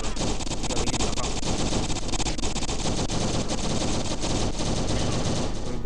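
Sustained, dense automatic gunfire from an offline Android zombie shooter in a 4-versus-4 match, rattling continuously and loudly throughout with bursts of shots overlapping, and no clear speech.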